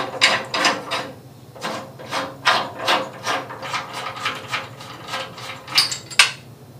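Truss pole set from an Orion SkyQuest XX14g GoTo truss tube Dobsonian telescope taken apart by hand, no tools. It gives a steady series of close, rhythmic ratcheting clicks and scraping rubs from the captive hardware.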